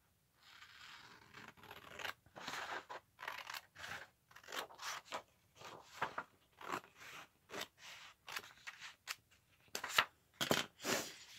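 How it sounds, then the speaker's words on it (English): Scissors cutting torn paper for a handmade matchbook journal, a close series of crisp snipping and scratchy slicing strokes in irregular bursts, quiet and without talk. "So all I'm going to do here is cut up that line."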